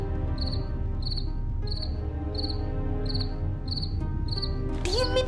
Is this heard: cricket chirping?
yes